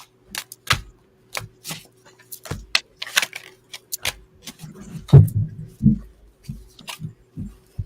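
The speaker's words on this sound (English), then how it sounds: "Dropping cards everywhere." Tarot cards being shuffled and handled, giving a run of quick, light papery flicks and taps with a few louder slaps near the end. No one speaks.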